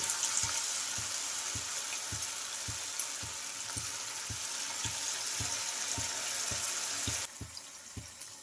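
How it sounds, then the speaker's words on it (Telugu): Cauliflower pieces for Gobi 65 deep-frying in hot oil over high flame, a steady dense sizzle throughout with a regular faint tapping underneath, dropping slightly in level near the end. "ఇంకా మిగతా వాటిని కూడా వేసుకుంటున్నాను ఆయిల్లోకి ఇంకా వేసేటప్పుడు మనకు హై ఫ్లేమ్లోనే ఉండాలి"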